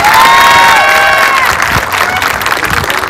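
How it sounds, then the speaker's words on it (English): A high school graduation crowd applauds and cheers loudly, with sustained clapping, whistles and shouts from the audience filling the venue throughout. "Let's give one more round of applause to Virgil Jones"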